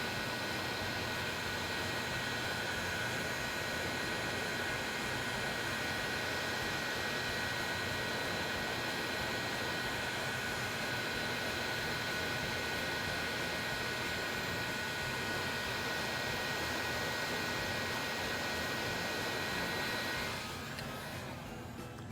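A heat gun roars steadily while heating a PVC sheet, a loud, constant broadband blowing hiss that runs nearly unbroken before cutting out at the very end.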